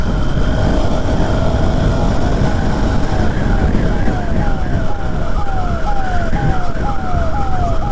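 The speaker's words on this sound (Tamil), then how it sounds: "ஸோ ஆம்புலன்ஸ் போகுது" Ambulance siren passing on a road, its repeating rising wail clear and fairly loud over dense traffic and engine rumble, sweeping steadily through the whole stretch.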